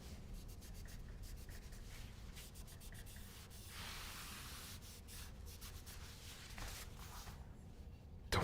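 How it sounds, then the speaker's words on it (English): A cloth rubs fingerprints off a black anodized aluminum keyboard case in quick, close, faint swishing strokes, a few bursts with a longer smooth wipe in the middle. "The wiping sound."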